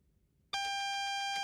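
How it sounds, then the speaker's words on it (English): A sharp electronic alarm tone starts abruptly after half a second of quiet and repeats in steady pulses; it is the AWS self-test warning in the Train Sim World Great Western Express cab. "That alarm is the AWS self-test system."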